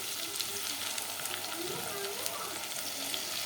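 Tomato paste is spooned into garlic sizzling in a pan for restaurant-style pasta sauce, a loud, steady frying hiss close up with faint stirring underneath.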